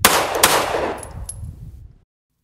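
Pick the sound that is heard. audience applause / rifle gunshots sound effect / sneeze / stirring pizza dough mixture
rifle gunshots sound effect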